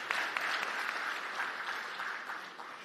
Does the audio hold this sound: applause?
yes